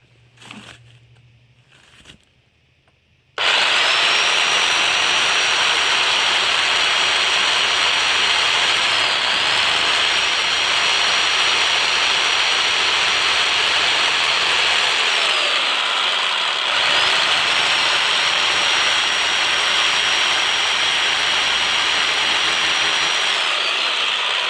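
A power drill bores holes into a brick wall, a loud, steady high-pitched grinding whine that runs continuously after a short quiet start with a few clicks, dipping briefly once mid-way before resuming.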